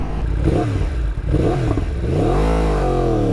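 A 2016 Yamaha R1 motorcycle engine revs loudly through its exhaust, rising and falling in pitch, ending in a sustained climbing rev. Close and dominant.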